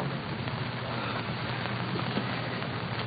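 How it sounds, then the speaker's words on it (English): Steady rain falls outdoors around a bike ride, a dense, even hiss that runs unbroken throughout with no voices. "You can hear the rain over the top"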